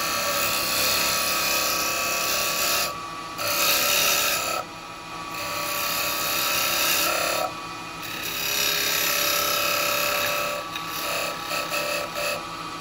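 A square carbide tool cuts a piece of wood spinning on a lathe, giving a steady scraping rasp over a constant machine hum, broken by several short pauses where the tool lifts off the wood.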